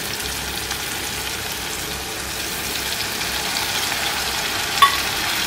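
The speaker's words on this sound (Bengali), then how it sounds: "এবার আমি আদা রসুন দিয়ে নেব।" Ginger and garlic fry with softened tomato in a pan, giving a steady, dense sizzle that holds evenly throughout, with a single brief clink near the end.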